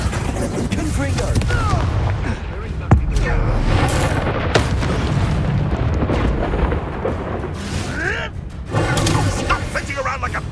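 Confringo blasting spells exploding in the Hogwarts Legacy video game, a dense, loud run of booms and crackling bursts with sweeping magical whooshes, layered under in-game voices.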